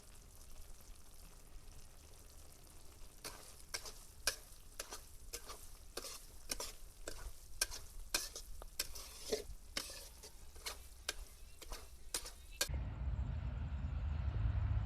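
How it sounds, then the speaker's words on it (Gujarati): Semolina roasted in ghee in a pan over low heat for sheera, a spoon scraping the pan in a steady rhythm of strokes under a faint sizzle, ending in a louder rumbling wash. "હવે આપણે આને ધીમા તાપે એમને ધીમે ધીમે હલાવવાનો છે"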